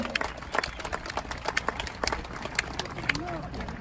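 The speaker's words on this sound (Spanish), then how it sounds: "público jaripero, le brindamos un fuerte aplauso al señor Hugo Figueroa" A rodeo audience at a jaripeo ranch in Newburgh, New York claps in scattered, uneven bursts while an announcer talks over a loudspeaker throughout.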